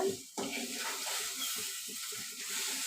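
Crab pieces frying in a hot pan for a home-style crab gravy, a steady broadband sizzle with faint stirring scrapes, close and moderately loud, no talk.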